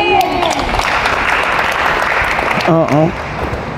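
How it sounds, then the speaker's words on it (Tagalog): Applause from a church congregation in Manila, sustained clapping under raised voices, with a brief sung or shouted phrase near the end. "Bawat palakpak nyo, biyayang darating sa inyo."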